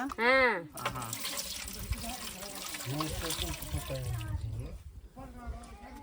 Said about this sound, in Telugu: నేనైతే పోసేద్దాను ఇక బింద నిండా నీళ్లు